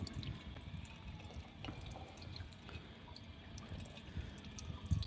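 Water runs and splashes steadily from an outdoor drinking fountain in San Diego, a continuous near trickle with small drips throughout and no voices.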